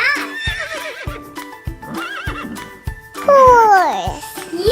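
A horse neighs with a loud, bright falling whinny near the end, after a stretch of playful music and children's voices in a kids' farm-animal song.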